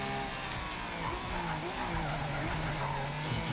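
A racing car accelerates on the Côte d'Azur coastal route in Project Cars 3. The engine drone rises steadily, with tire squeal and skidding noise layered over a constant loud roar.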